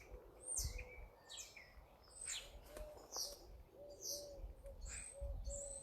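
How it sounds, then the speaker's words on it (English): Pigeons, starlings and sparrows calling from a hedge at dawn: repeated high chirps and tweets with soft low cooing, moderately near, over a steady outdoor hum, no talking. "Pigeons and starlings and sparrows, they're all in that hedge, and they're all waking up, ruffling their feathers"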